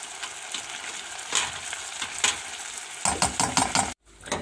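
Orzo fries in a pan with clotted cream for rice pilaf, giving a steady, close sizzle over rhythmic scraping as a utensil stirs the pan. The sound cuts off briefly near the end.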